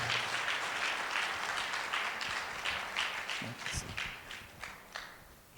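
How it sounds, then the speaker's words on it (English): Audience applause at a nursing and midwifery association gathering after a paper presentation, a steady dense patter of clapping that holds through most of the clip and thins toward the end into a few scattered claps. "Let's put our hands together."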